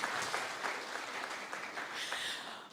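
A summit audience claps in a fairly faint, steady patter, with a few louder bursts rising and falling over a couple of seconds.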